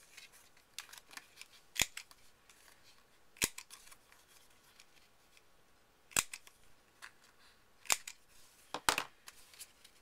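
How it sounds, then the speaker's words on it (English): A corner punch rounds off the corners of a small 3.5 by 1.5 inch paper card, giving sharp isolated clicks spaced a second or two apart over faint rustling handling noise. "I want to round the corners off of this"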